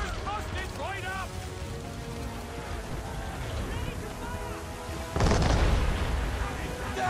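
Ship cannons fire in Assassin's Creed 3 naval combat, one heavy booming volley bursting out near the end over a constant rumble, with raised voices calling orders throughout.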